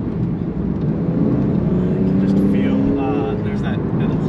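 A 2009 Porsche 911 Carrera S, 997.2 generation, pulls hard with a steady, rising engine drone heard from inside the cabin, continuous for a few seconds beneath a voice.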